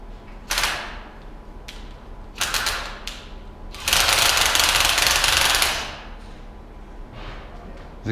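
A power drill driving a socket whirs and grinds in several bursts, the longest lasting about two seconds, close by against a background hum.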